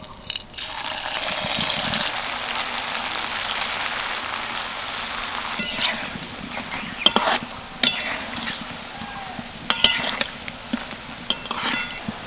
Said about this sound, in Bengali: বাকি ব্যাটাটাও আমি একইভাবে ভেজে নিই